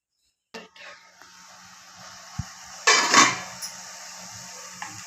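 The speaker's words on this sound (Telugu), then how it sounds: "మూత పెట్టేస్తున్నాను." A lid is set onto a cooking pot of tomato paste, with a sharp metallic clink and a short clattering scrape of metal on metal amid quiet kitchen noise, close and without talk.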